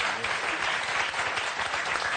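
A game show studio audience bursts into loud, dense applause, sustained clapping that fills the whole short moment without pause.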